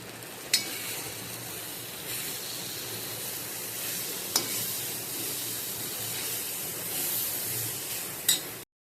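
Malvani masala and a pinch of turmeric dry-roasting in a pan for stuffed bitter gourd, giving a steady, even hiss and sizzle with a few sharp taps from a utensil scattered throughout.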